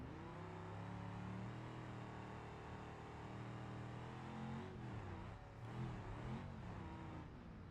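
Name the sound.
muffled car engine in a video game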